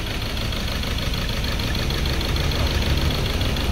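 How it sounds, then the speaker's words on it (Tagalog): A Ford Ranger 2.2 pickup truck engine, misfiring badly, idles nearby with an uneven, knocking rumble, running continuously without any voices. "Isa po ito sa mga indikasyon na sobrang palyado talaga ang makina"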